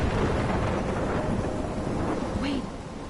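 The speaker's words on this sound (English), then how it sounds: "I'm trapped in a storm?" Thunderstorm ambience inside a PS4 game: a dense, steady roar of rain and wind with a low rumble of thunder rolling through, heard alone with no voices.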